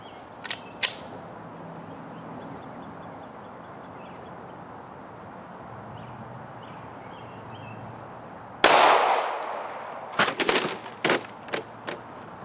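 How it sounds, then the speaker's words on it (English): A single gunshot from a .40 Smith & Wesson firing Hornady Critical Duty 175 grain rounds at an outdoor range: one loud, sharp close blast after a long quiet stretch, followed by a few shorter cracks and clatter. "first up we're going to go with the 40 Smith & Wesson, and this is the Hornady Critical Duty 175 grain flex lock projectile"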